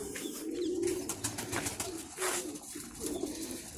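Pigeons coo softly in a steady, low throaty murmur, several birds overlapping continuously at moderate distance, no voices.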